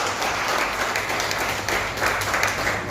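A seated audience at a direct selling business event breaks into steady, dense applause that holds at a constant level, with the hall filled by overlapping claps.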